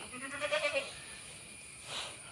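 A Malabari goat with its kid bleats in a short wavering call, then a fainter second bleat follows, both fairly quiet against a soft background hiss.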